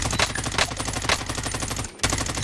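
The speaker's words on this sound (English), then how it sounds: "Oh crap, somebody's shooting me." Rapid automatic gunfire in Call of Duty Warzone, loud bursts of machine-gun shots fired in quick rhythm with a brief pause near the end before shooting resumes.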